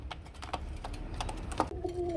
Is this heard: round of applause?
no